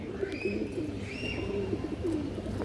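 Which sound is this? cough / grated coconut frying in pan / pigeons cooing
pigeons cooing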